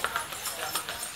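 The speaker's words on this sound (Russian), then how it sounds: "Танцующие лошади." A taxi horse on Gili clip-clops along a street, light rhythmic hoof strikes repeating at an easy pace, moderately near amid outdoor ambience.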